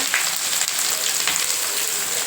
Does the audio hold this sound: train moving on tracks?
no